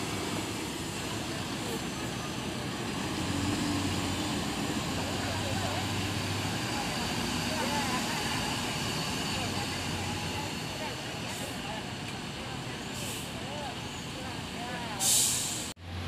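An Atlas intercity bus pulls into a terminal platform, its engine a steady low rumble with broadband hiss, ending in a sharp air-brake release; voices talk faintly in the background.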